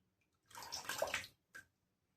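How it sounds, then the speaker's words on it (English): Tap water runs briefly to wet a shaving brush, a short splashing stream of under a second followed by a quick second spurt, close and fairly quiet. "Now we're going to get the brush wet."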